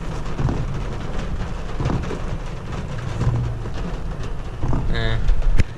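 Steady rain patters and hisses around a camping truck in the backwoods, with low rumbles of thunder building in the background, louder near the end, and a person speaking over it.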